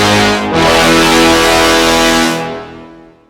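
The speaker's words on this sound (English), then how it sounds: "The purpose of this tutorial is to show how to create those angry brass sounds like this." Angry orchestral brass from the BBC Symphony Orchestra sample library blares as a loud, harsh sustained chord. It swells after a brief dip, holds for about two seconds, then fades away.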